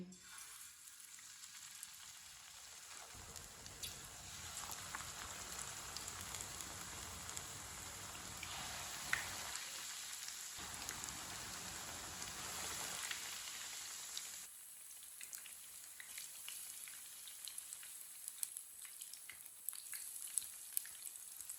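Battered pakoras fry in hot oil with a steady, soft crackling sizzle that runs unbroken and rises and falls slightly in intensity, heard alone without any talking.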